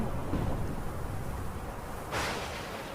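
Distant thunder rumbles low beneath steady rain, with a brief brighter surge of storm noise toward the end.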